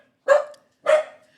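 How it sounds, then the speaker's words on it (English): Phoebe the dog barks twice, two loud, close single barks about half a second apart, with a short quiet gap between them and no talk over them. "She's gonna bark."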